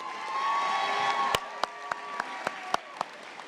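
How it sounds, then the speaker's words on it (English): An audience at a nursing convocation applauds the graduates, an even spread of clapping under cheering voices, then thinning into a few loud, isolated claps spaced out at a slow, steady beat. "Let's give them another round of applause."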